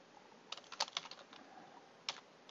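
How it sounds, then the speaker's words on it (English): Typing on a computer keyboard, quiet scattered clicks in short clusters with pauses, close and alone. "Can't type and talk at the same time."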